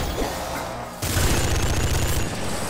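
Splinter gun firing in the video game Nuclear Throne, a sudden dense burst of rapid crackling shots that starts partway in and keeps going loud and steady to the end.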